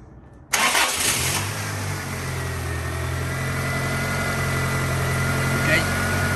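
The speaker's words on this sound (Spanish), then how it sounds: "Así que voy a encender el auto." A 1996 Toyota Tacoma engine cranks and catches about half a second in, then settles into a steady, close idle that runs to the end, with faint voices in the background.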